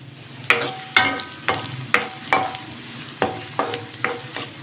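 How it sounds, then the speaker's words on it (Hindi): Finely chopped onions sizzle lightly frying in ghee in a hot pan while a utensil stirs and scrapes in regular strokes, about two per second, close and clear. "इसको हमने लाइट फ्राई करना है प्याज को।"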